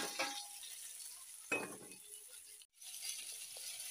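Fish frying in a pan, a faint sizzle with a light clink of a utensil or pan partway through and a brief dropout near the end.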